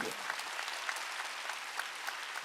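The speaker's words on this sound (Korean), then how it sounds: "박수 좀 쳐줘 이게." Church congregation clapping during a Korean Wednesday worship service, a steady, fairly quiet wash of many hands with a few sharper claps standing out, no speech over it.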